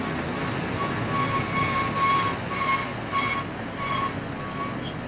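A recreated radio-drama train effect of a passenger train slowing to a stop, a steady broadband rumble with a few rising hiss-like brake or steam pulses and faint tonal squeals, loud and continuous with no talk.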